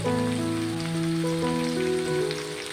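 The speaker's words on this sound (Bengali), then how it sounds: "ফুলকপিটাকে দিয়েও হালকা একটু ভেজে নেব" Cauliflower pieces lightly frying in oil in a pan for a vegetarian poppy-seed cauliflower and potato dish give off a steady, soft sizzle over a bed of background music, with no talking.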